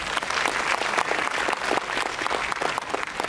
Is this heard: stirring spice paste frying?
no